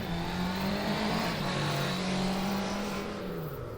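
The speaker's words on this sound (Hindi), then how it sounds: "अब उसके गायब होते ही सिपुन के पापा भी मोटरसाइकिल तेजी से भगाने लगे।" A motor vehicle engine revs and speeds away as a sound effect, a steady droning whine that rises and falls in pitch while staying loud and close before easing off slightly at the end.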